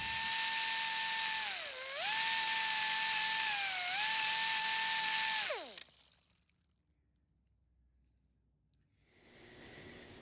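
A small, high-pitched power tool bevels the entry hole for a roll pin on a classic Porsche seatbelt part, whining steadily and close with a brief dip mid-run, then cutting off into silence before faint noise returns.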